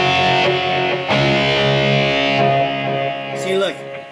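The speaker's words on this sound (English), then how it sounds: "Crunch for me, that amp is an original 4x12 stack similar to a combo crunch." Crunchy distorted electric guitar through a Boss eBand JS-10 modeling a 4x12 amp, chords ringing and sustaining with a couple of sharp new strums and a short slide near the end, loud and close.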